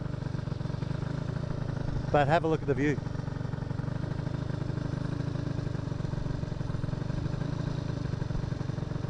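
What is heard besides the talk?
moped engine driving up a mountain road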